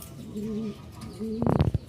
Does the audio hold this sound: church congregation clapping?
no